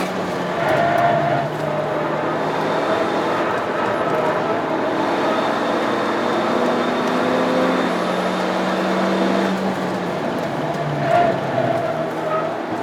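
Alfa Romeo Mito QV fitted with Bilstein B14 suspension lapping a race track on worn tires, its engine a steady, continuous drone with shifting tones heard from inside the car, no talk over it.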